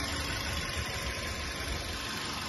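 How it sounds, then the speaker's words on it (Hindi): Maruti Suzuki Jimny 2024 engine running at idle, heard close and steady with an even, low mechanical hum and slight vibration throughout, with no talk over it. "इंजन साउंड एक ऑफरोडर कार के लिए बहुत ही कम है"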